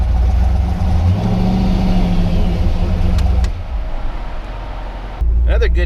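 A Jeep Wrangler JK with a cammed LS7 V8 and five-speed rumbles loudly at a drive-through, its choppy idle swelling into revs, easing briefly, then surging again, with voices talking over it.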